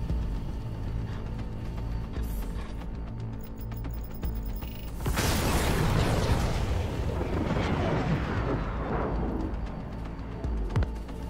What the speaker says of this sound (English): That explosion sounds way cooler.